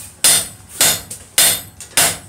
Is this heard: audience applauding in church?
no